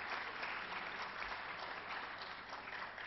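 Audience applause at a South Asia media summit, a steady wash of many hands clapping that holds evenly for about three seconds with no voices over it.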